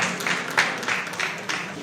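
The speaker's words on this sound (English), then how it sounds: "let's welcome you with a round of applause" A short round of applause at a community forum, with moderately loud, steady clapping from an audience in a room, a few louder claps standing out, and no talking over it.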